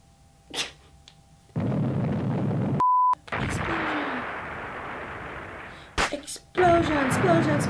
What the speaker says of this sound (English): Explosion, explosion, explosion,